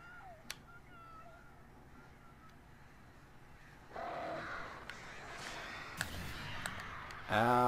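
Crows caw in the Alan Wake video game, a few harsh calls scattered at first, then louder cawing and flapping as the birds swarm, with a burst of shrill cries at the end and a voice reacting partway through.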